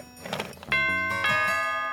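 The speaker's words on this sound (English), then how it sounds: "when the doorbell rang" A doorbell rings out a clear two-tone ding-dong chime, ringing tones sustaining after a brief rustle at the start.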